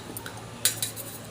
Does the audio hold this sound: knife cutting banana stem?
yes